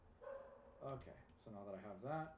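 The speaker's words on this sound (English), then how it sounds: "apologies if you hear a barking dog in the background" A dog barks a few times at a distance, its yips tucked under a person talking steadily in the foreground.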